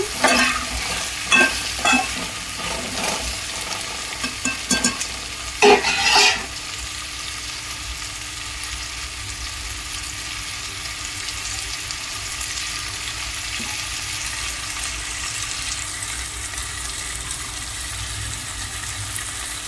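Taro root (chamadumpa) curry frying in a home kitchen pan: a few spoon-scraping stirs clatter in the first seconds, then a steady, close sizzle carries on alone without speech.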